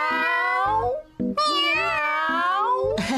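Repeated drawn-out cartoon cat meows, bright and close, several in a row with brief gaps, from an animated Doraemon film dubbed in Tagalog.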